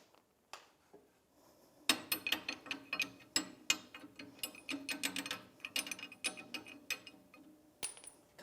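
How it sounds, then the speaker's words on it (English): A bushing puller is cranked to draw an old bushing out of a 1992-1996 Ford F-150 leaf spring, giving a quiet series of irregular ratcheting clicks and metallic ticks, sparse at first and then quick and clustered. "So now I have a bushing puller in the end of the leaf spring, and I'm pulling that old bushing out"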